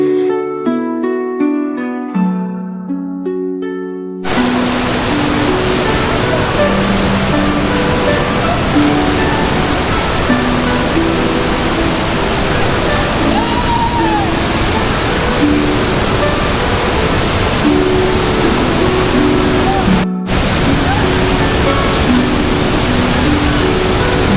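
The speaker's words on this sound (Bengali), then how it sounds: "সংগ্রামপুঞ্জি ঝর্ণা, স্থানীয় নাম মায়াবী ঝর্ণা।" Sangrampunji waterfall, also called Mayabi, swollen after heavy rain, roars as a loud, constant rushing wash of water that begins after a few seconds of music, with a faint melody returning beneath it.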